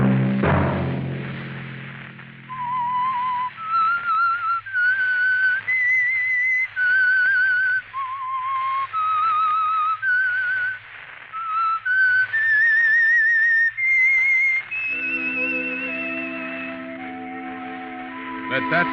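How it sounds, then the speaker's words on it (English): A whistled melody serves as the theme signal of the Signal Oil radio program The Whistler, a solo tune of clear rising and falling notes over a low hum, ending as orchestral chords enter. "Let that whistle be your signal for the Signal Oil program, The Whistler"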